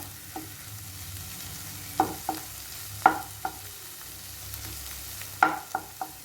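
Egg scrambling with masala in a pan for kothu idiyappam, a soft steady sizzle broken by several sharp spatula scrapes and knocks against the pan, heard alone with no talking.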